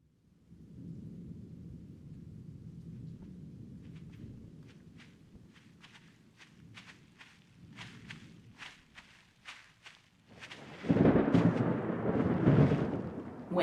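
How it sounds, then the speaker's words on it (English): Thunderstorm sound effect for a Scottish open-place scene: low rolling thunder rumbles, then a run of crisp rhythmic thuds like hoofbeats or footsteps, ending in a loud close thunderclap with rain; no voices. "In thunder, lightning, or in rain?"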